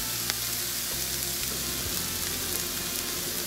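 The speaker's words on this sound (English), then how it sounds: "You just need them to saute it for a little bit." Vegetables and garlic saute in a hot pan with a steady, even sizzle that fills the whole stretch, no voices over it.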